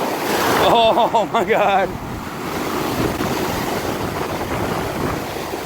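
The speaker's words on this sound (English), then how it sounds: "These are only like 8-foot waves. Last night they were over 20 feet." Large ocean waves surging onto a beach after gale force winds, a steady loud roar of surf and wind noise, with a person exclaiming over it at the start.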